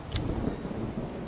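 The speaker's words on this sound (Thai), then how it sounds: "ฝนตกจังซี่เนาะ" Steady rain and a rumble of thunder in the horror video game Resident Evil 7, a dense low roar with a brief sharp crack near the start, loud and without speech.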